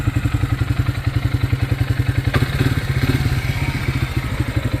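A 2010 Polaris 400 AWD ATV engine runs close and loud with a steady, rapid thumping idle pulse and a brief clatter midway.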